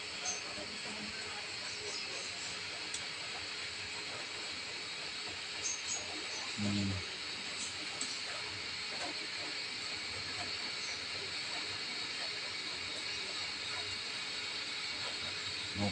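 Steady low hiss and rumble of a repaired electric kettle heating water, with a faint clunk midway; quiet and continuous throughout.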